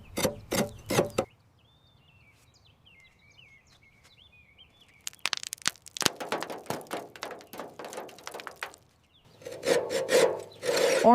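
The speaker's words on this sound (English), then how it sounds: "Scraping off this hardened mud. It's brittle on top." Hardened, brittle mud scraped off the rusty body of a tiny Brütsch Mopetta microcar, heard as bursts of dry rasping strokes that come and go, near and close, with quiet gaps between.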